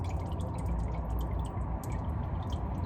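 Engine oil from the drain of a 2018 Hyundai Elantra 2.0L dripping steadily into a drain pan during an oil change, a continuous low liquid patter with small scattered drips, close and alone.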